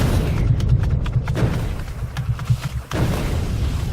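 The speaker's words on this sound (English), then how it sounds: "Time for some cannon." Tank cannon fire in the Factorio video game, a dense run of low booming thuds and rumbling impacts that fills the whole stretch, with no talking.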